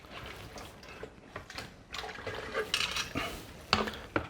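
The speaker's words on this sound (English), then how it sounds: "just bring it over, dump it in the pot with cold water" Rinsed beef for caldo de res, a beef stew, is dumped from a strainer into a pot of cold water, giving a series of soft splashes and light metallic knocks that build toward a louder final plop.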